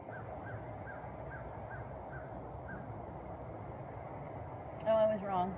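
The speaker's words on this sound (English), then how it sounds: "Birds say hi too." Repeated short bird calls sound at a steady pace over a constant outdoor hum, then a brief louder noise cuts in near the end.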